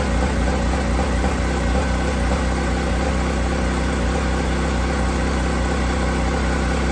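A tuned Kawasaki Ninja ZX-4RR motorcycle engine idles loudly and close by with an even, unbroken rumble and no talking.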